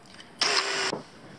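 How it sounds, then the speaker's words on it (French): A drill boring out a seized screw in the motor pinion of a Vaterra Twin Hammer RC truck, a single loud, close half-second whine that starts and stops abruptly. "on va profiter bien sûr de l'empreinte pour percer bien au milieu"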